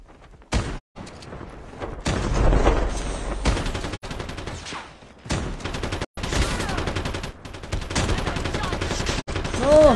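Video game gunfire from a shotgun and an RPD light machine gun, with loud sustained bursts and rapid fusillades cut by brief gaps, and speech mixed in.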